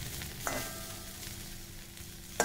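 Okra stuffed with masala fries in a pan as it is turned, a soft, steady sizzle under a faint hum, with two brief utensil knocks, one early and one at the end.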